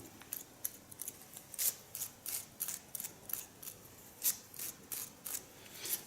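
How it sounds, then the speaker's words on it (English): Crisp, close scissor snips repeat in a steady, quick rhythm, each a short sharp metallic cut, with no voices. "I mostly love the sound of the scissor."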